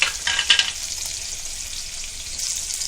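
Sliced onions with salt hitting hot ghee in a pan, a bright close sizzle with a few stirring scrapes early on, then a steady hiss that holds for the rest.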